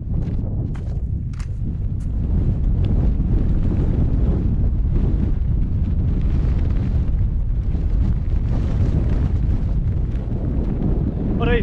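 Strong wind buffets a Cairngorms mountain boulder field as a steady, heavy low roar that fills the whole stretch without easing, with faint scuffs and knocks underneath.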